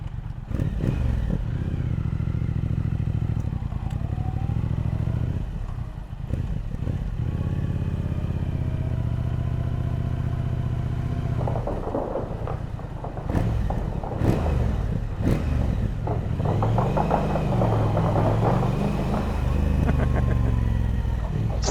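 Stock-exhaust engines of a Kawasaki Ninja 400 and a Honda Hornet run continuously up close, droning with repeated rises and falls in pitch as they rev, mixed with clattering and scraping noises.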